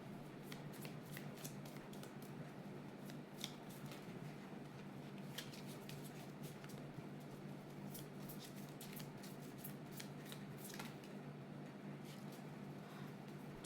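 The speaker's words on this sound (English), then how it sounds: "These two cards literally flipped together" Tarot cards riffle and slap in a continuous shuffle, soft papery flicks and snaps repeating in quick uneven bursts, close and quiet with no talk.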